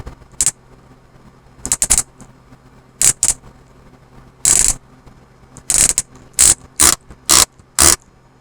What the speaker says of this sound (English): So let's give it a click test and see how it sounds.